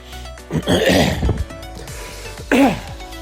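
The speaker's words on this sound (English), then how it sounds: "you get me coughing again" A person coughs and clears their throat in two short, rough bursts, close to the microphone, with a quiet pause between.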